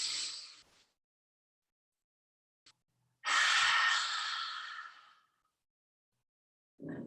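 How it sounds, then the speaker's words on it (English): A slow, deep breath let out through the mouth with the tongue stuck out during a guided mindfulness exercise, a long breathy exhale of about two seconds, close and fairly loud, with a shorter breath before it and quiet gaps around it. "This time stick out your tongue on the exhale."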